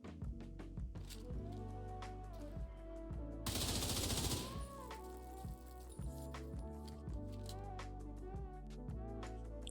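Rapid automatic weapon fire in the shooter game The Division 2 crackles in fast, evenly spaced bursts, with a dense noisy blast in the middle, over a steady musical game soundtrack.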